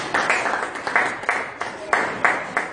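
A church congregation applauds, with steady, moderately loud clapping and a few sharper bursts running for about three seconds.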